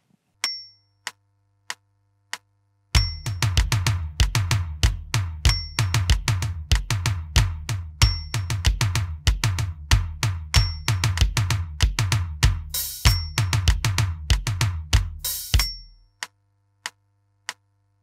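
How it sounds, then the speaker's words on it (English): Drum groove for a song: a few metronome clicks count in, then a steady tom pattern with a hi-hat joining later, loud and busy, ending in a few sparse clicks. "So we're going to go into the pre-verse just on the toms, no hi-hat. On the 4th bar, we're going to add in the hi-hat."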